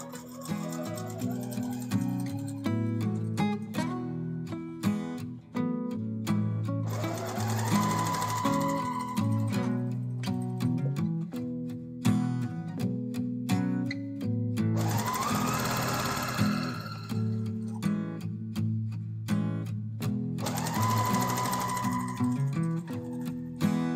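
A sewing machine stitches a 3/8 inch seam on a self-binding receiving blanket, running in steady loud bursts of rapid mechanical chatter with short pauses between runs.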